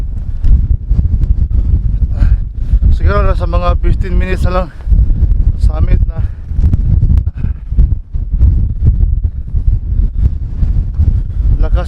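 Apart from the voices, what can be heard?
strong wind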